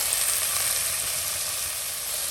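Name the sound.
chopped tomatoes sizzling as added to the pan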